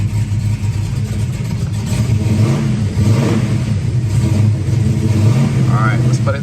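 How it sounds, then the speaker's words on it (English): A Candyapple Red 1966 Mustang GT fastback, still cold and fitted with a new exhaust, revs loudly with a deep, throbbing engine roar that rises and falls continuously up close, while a person talks over it. "Listen to that exhaust."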